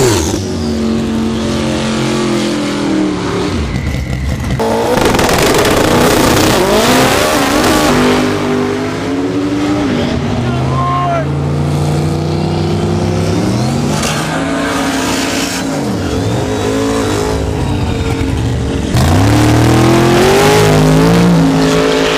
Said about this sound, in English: We got an LSX F body and then a big ass turbo Civic.